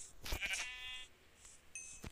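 A sheep in the Minecraft video game bleats once, a short quavering cry, followed by faint game clicks and a brief higher tone.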